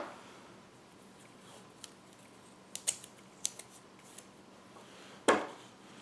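Scissors snip out a paper oval for a holiday snowman card, a few sparse, quiet cuts scattered across an otherwise hushed tabletop, with one sharper, louder snip near the end.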